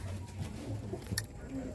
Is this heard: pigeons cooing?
yes